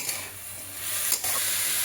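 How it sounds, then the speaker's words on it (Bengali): Brief soft sizzling of cashews in a pan with a couple of light scraping stirs, quiet and close. "এই সবগুলোই আমি এবার কিছুটা নাড়াচাড়া করে নেবো, নিয়ে হালকা করে ভেজে"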